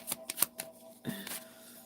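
A deck of cards being shuffled by hand: quick riffling bursts, a few rapid flutters in the first half and another ripple after a short pause, close and fairly quiet with no talk.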